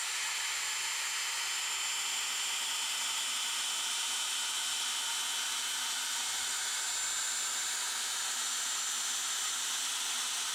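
A drill spins a 3000 grit sanding disc against a headlight lens from a 3M Ultra headlight restoration kit, a continuous high-pitched whirring hiss that stays steady and close throughout.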